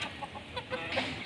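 A rooster clucking in short, quick bursts, close by and fairly faint, over a steady background hiss.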